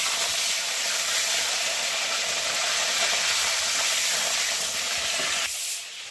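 Cauliflower frying in a wok: a loud, continuous oil sizzle and hiss that holds steady, then cuts off abruptly near the end.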